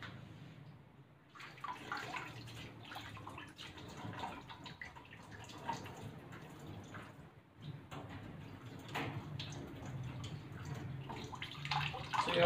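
Water is scooped from a bucket and splashed over a Shih Tzu during a bath, with repeated sloshing, pouring and dripping sounds at close range.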